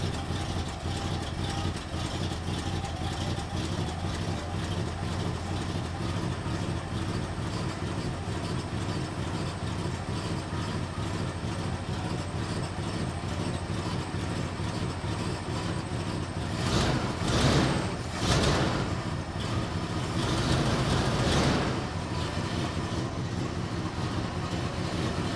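A car engine idles after a distributor adjustment, with a steady, lumpy rumble running throughout and a few louder surges near the end; an exhaust backfire fault was being traced.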